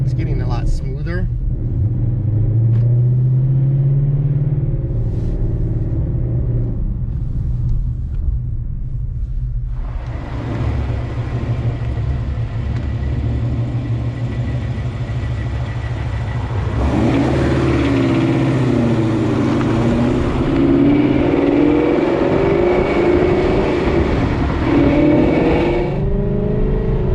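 A Boss 302 car with a new one-piece drive shaft and clutch drives along, its mid-pitched engine droning steadily and rising as it accelerates, loud and continuous throughout.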